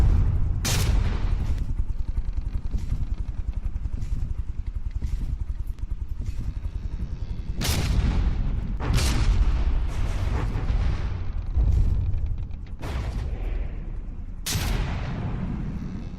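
Warship guns fire in the From the Depths naval combat game: heavy booming blasts recur every few seconds over a constant low engine rumble, some shots louder and sharper than others, with no speech.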